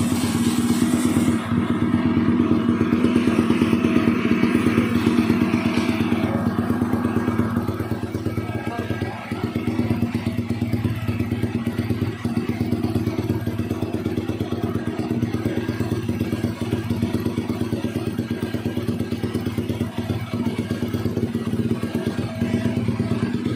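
Yamaha N-MAX 200cc scooter engine running on a dyno at a motorcycle workshop, a loud, steady mechanical drone throughout with slight swells in pitch, with people talking over it.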